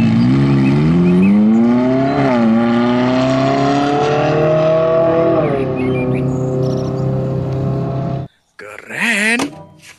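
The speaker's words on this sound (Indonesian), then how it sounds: "ada mobil balap" A race car engine roars loudly and close, its pitch climbing and dipping through several revs over about eight seconds before cutting off abruptly, followed by a short burst of another sound.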